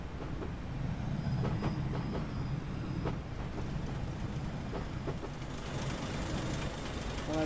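A passing train in the Train Simulator 2016 video game, on a foggy autumn mainline with a Class 25 locomotive: a steady rumble with rhythmic wheel clatter and occasional squeal, continuous and fairly close throughout.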